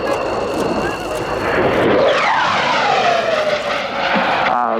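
A Saab Gripen jet flies past at an airshow in Yeovilton, with a loud, continuous engine roar whose pitch sweeps downward as the aircraft passes overhead.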